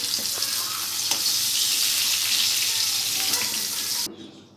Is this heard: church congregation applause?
no